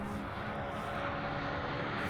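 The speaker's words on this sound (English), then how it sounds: "Keeping an eye on these jet skis." Jet skis on Lough Erne, a lake, give off a continuous broadband engine drone that stays level and fairly distant throughout, with no voices.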